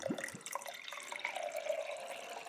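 Water pours from a container into a foil MRE pouch of lentil stew powder, a steady trickling splash running for a couple of seconds, close and fairly quiet with no talk.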